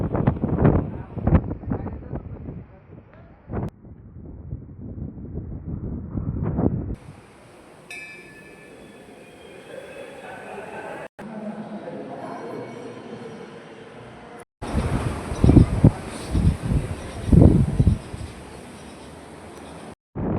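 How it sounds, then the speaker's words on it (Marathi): Strong wind blows across the microphone at a hilltop temple, making heavy gusty rumbles and buffeting that drop into quieter stretches of broadband noise, then return in loud bursts. "एवढं वारं सुटलं होतं खूप मस्त वाटत होतं इथं"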